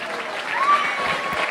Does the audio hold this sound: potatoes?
no